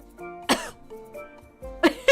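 A voice imitating a dog coughing, two sharp hacking bursts in a short span, near and loud, with voiced sounds between them.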